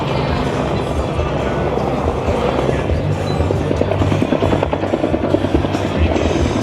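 Helicopter at an air show, its rotor chop loud and steady throughout with a continuous engine drone, close by and dominating the scene.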